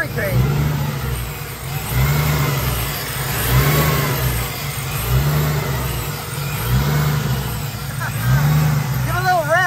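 Car engine fitted with a Vortech supercharger, running loudly and steadily with slow swells in revving, with voices talking over it.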